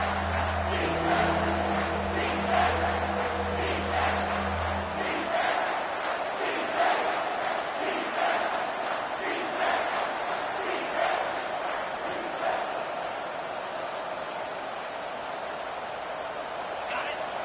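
Home crowd cheering in the college football video game CFB 25, a loud sustained roar that swells and stays dense throughout while a commentator talks over it.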